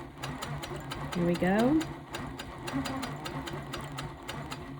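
Sewing machine quilting very small fabric pieces, a rapid steady needle rhythm of evenly spaced close clicks running throughout, under a woman's brief speech.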